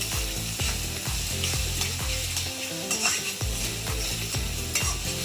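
Shallots, onions and fennel seeds fry in a pan for a lunch-box prawn dish, giving a steady close sizzle with regular stirring scrapes and no voices.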